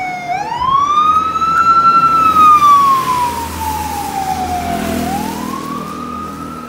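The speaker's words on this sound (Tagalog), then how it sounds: "Dalawa na bumbero dumarating." Fire truck sirens wail steadily, pitch sweeping up and down in long rising and falling glides, close by over low traffic rumble.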